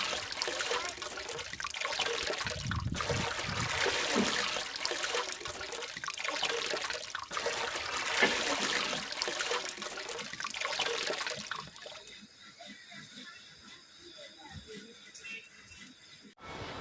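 The Saryu and Gomti rivers flow past Bagnath Temple in Bageshwar, Uttarakhand, a steady broad rush of water heard close for most of the stretch before it drops away, with a voice talking intermittently.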